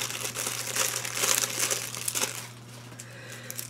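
Scissors and hands opening a plain mail package, with loud close crinkling and crumpling of paper or plastic wrapping in bursts, then quieter handling over a faint steady hum.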